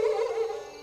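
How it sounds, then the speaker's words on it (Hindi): Cry of the Hau creature as a sound effect: a single eerie, sustained tonal wail with a gliding pitch that slowly fades, heard alone. "ये तो हाउ का स्वर है।"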